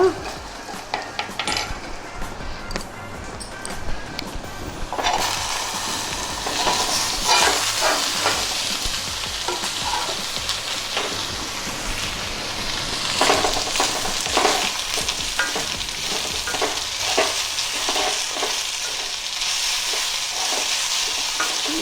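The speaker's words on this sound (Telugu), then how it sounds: "ఈ చారు తాలింపు ఇలా వేగుతూ ఉంటుందన్నమాట." Tempering of cumin, mustard seeds and dried red chillies sizzles steadily in hot oil for rasam, a continuous frying hiss with occasional clinks of a stirring spoon against the pan.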